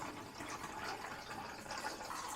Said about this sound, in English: So this is warm water that I'm putting in.